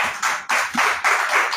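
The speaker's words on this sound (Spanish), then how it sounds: "Denle un fuerte aplauso al Señor." A small group claps in a church devotional gathering, a few uneven bursts of close hand claps over about a second and a half.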